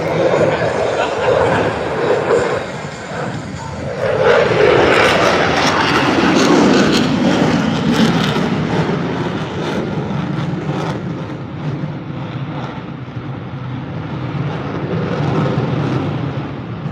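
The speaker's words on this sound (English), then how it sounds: "now setting up a high-speed pass" An aircraft engine roars through a high-speed pass at the Duluth airshow, a loud rushing drone that swells and shifts in pitch as it sweeps by, with an announcer talking over it.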